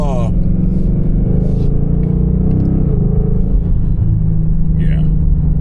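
A C6 Corvette's LS V8 rumbles loud and close with a deep, steady drone as the revs climb and swell on a hard downshift, and the engine noise runs throughout.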